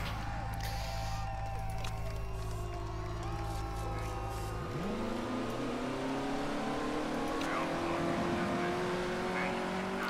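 Race cars pulling out of the pits in Motorsport Manager, engines droning at a steady pitch before revving up with a rising whine around the midpoint, loud and close, continuing to accelerate away.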